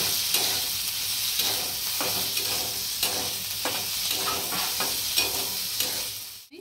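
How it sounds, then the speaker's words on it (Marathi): Onions frying in oil in a pan for a Maharashtrian surmai (kingfish) curry give a steady, close sizzle with bursts of crackling and occasional stirring scrapes, alone with no talk, fading at the very end. "कांदा चांगला लाल करायचा।"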